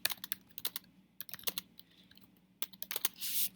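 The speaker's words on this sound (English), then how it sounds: "okay, and you're going to type in yours." Keys tapped on a computer keyboard in irregular bursts of close, crisp clicks with short pauses, ending in a brief louder rustle; no talking.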